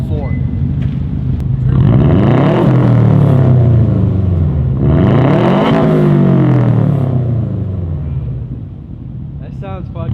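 A Subaru fitted with a Tomei Expreme Ti titanium exhaust revs hard twice, each rumbling pull rising to a high, raspy peak before dropping back to a burbling idle, loud and close.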